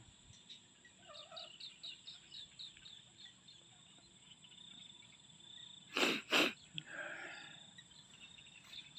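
Chickens cluck and call in a rural rice field, a series of short repeated calls over steady outdoor background, followed by two loud close bursts near the end.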